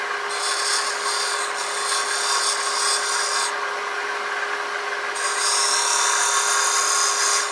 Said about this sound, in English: it's the burr that's actually doing the cutting